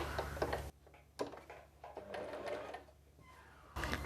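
Sewing machine stitching a lehenga lining, with short bursts of rapid mechanical whirring and ticking separated by quiet gaps. The sound is faint and close, with no voices over it.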